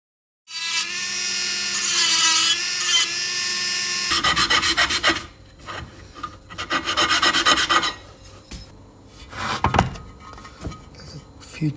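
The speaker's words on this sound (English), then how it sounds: "the more I sand to level this off" Power sanding of an aluminium weld on a vintage Moto Guzzi LeMans MK1 part, a loud continuous abrasive rasp that starts steady, then breaks into uneven bursts and pauses as the tool is worked across the metal.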